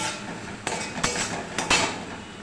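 Stirring salt and turmeric in a pan for paneer curry, with a few distinct metallic scrapes and clinks of a spoon against the pan over a steady background hiss.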